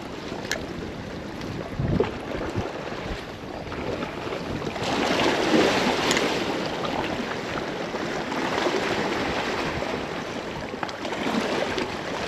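Strong wind buffets a small boat out on a lagoon, giving gusty, rushing microphone noise that swells in the middle, with faint water sounds and scattered knocks underneath.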